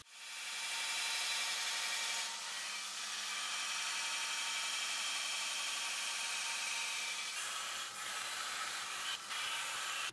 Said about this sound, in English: Using a worn 36 grit ceramic belt, I'll grind the outline.